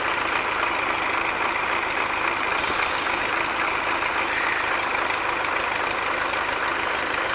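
An MTZ-80 tractor engine runs steadily in cold winter conditions, a continuous, even diesel drone at moderate loudness with no talk over it.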